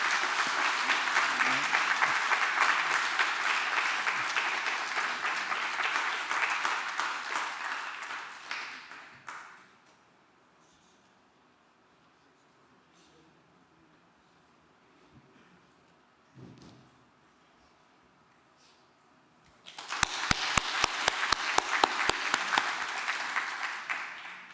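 An audience at a Busan church men's mission rally bursts into loud sustained applause welcoming two elders, fading to near silence, then a second strong round of clapping breaks out near the end.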